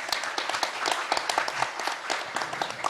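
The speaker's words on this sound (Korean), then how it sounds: "박수 한번 부탁드리겠습니다" An audience at a forum session applauds, a dense patter of many hands clapping steadily for a few seconds, moderately loud and without talk.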